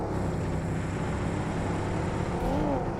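A car engine drones steadily and continuously in a video game, a close, even hum with no break and no voices.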